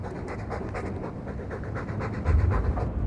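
Steady, close panting from a dog in Dragon Age II, quick rhythmic breaths running throughout with a slightly heavier burst near the end.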